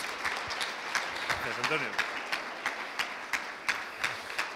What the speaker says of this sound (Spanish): Así que le recibimos con un fuerte aplauso, agradecidos de que esté con nosotros.